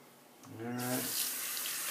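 A bathroom tap turns on after shaving and runs in a steady, close, broadband rush of water, rising quickly from near quiet into a continuous loud stream.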